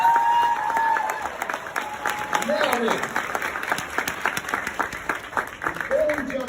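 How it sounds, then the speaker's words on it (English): A crowd at a graduation ceremony applauds the school's young helpers, loud continuous clapping with some cheering, while someone speaks over the applause near the end. "Give them a round of applause."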